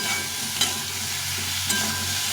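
Potatoes and tomatoes with salt and a little turmeric fry in a pan for a plain curry. Steady close sizzling carries two sharp spoon clinks from stirring, with no voices.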